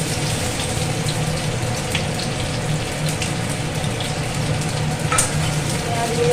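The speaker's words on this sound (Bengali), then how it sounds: "চলো এরপর দেবো পেঁয়াজের কুচি" Chopped onions fry in a pan for a spicy jackfruit curry, a loud, steady sizzle filling the whole stretch with occasional faint stirring clicks.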